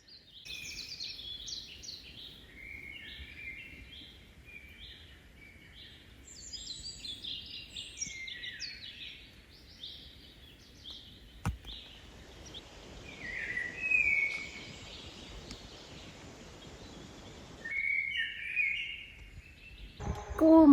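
Birds sing and chirp repeatedly in the open air on a May evening in Skåne, Sweden, bright trills and calls overlapping at moderate distance against a quiet background.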